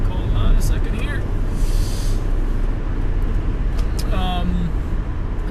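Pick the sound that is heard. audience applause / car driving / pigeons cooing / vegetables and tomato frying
car driving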